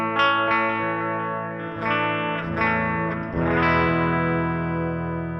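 Sustained electric guitar chords from a humbucker on the clean channel of a JST Toneforge Ben Bruce plugin ring out with spacious stereo delay, repeats trailing between strums, loud and alone.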